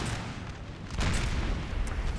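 Small 4-pounder cannon shots in a Napoleon: Total War battle, dull booming bursts amid continuous battlefield rumble, with a louder blast about halfway through.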